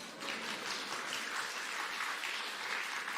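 Steady applause from a church congregation during a Sunday worship service at Green City Church, a dense wash of many hands clapping at an even level without pauses.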